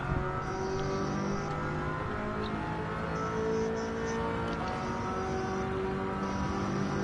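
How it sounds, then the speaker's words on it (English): Maserati race car with a Ferrari V8 engine in Gran Turismo 7 at Daytona, a steady, droning engine note with gear changes, moderately loud and alone. "This Ferrari, both the 8C and the Maserati have a Ferrari V8 in them, so they sound good."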